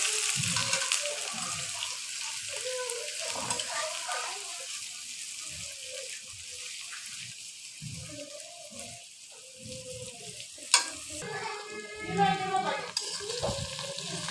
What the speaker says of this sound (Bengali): কুচনো পেঁয়াজগুলো ভাজা পর্যন্ত অপেক্ষা করবো